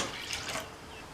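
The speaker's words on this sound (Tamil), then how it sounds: "அது கூட 2 கப் தண்ணி" Water is poured into a pan of soaked moong dal, a short soft splashing pour lasting about a second, close and faint with no talking.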